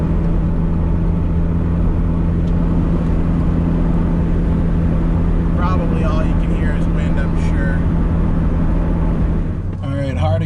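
A 2019 Subaru Crosstrek with a muffler delete drives with the windows down, a loud, steady low engine drone and road rumble filling the cabin, with a short burst of voice and movement near the end.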